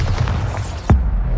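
A Bombarda spell explosion in the video game Hogwarts Legacy: a single loud, deep boom bursting near the end of a short stretch of low rumbling game sound.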